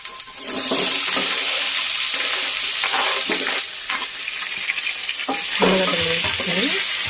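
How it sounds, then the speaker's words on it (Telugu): Sliced onions tipped into hot oil for a potato fry, sizzling loudly and continuously while a utensil stirs and scrapes through the pan in repeated bursts. "ఇప్పుడు మనం ఉల్లగడ్డ కట్ చేసి పెట్టుకున్నాం కదా, దాన్ని ఆ ఉల్లగడ్డల్ని ఇందులో వేసేయాలి."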